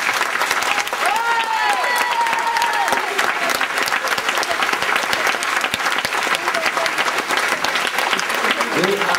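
A theatre audience at a Breton Celtic circle show applauds steadily, a dense, loud clapping that carries on throughout, with voices and a few shouts mixed in.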